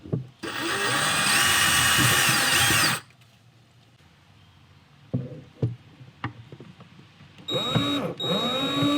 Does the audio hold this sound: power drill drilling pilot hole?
yes